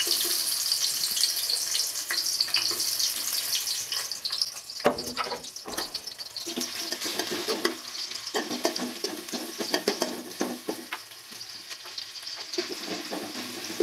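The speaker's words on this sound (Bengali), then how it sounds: "পেঁয়াজটা দিয়ে কিছুক্ষণ ভেজে নিয়ে" Chopped onions frying in oil in a pot for chicken biryani rice, with a busy sizzle and sputtering crackle plus scraping stirs, fairly close and continuous with no speech.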